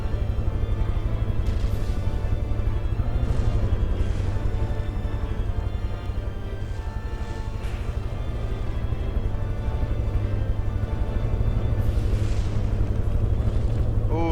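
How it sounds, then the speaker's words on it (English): Torpedoes strike and explode against a warship's weak under-armor in the naval combat game From The Depths. Repeated muffled booms and bursts rise over a constant low rumble of battle. "those torpedoes are striking the much weaker under armor there"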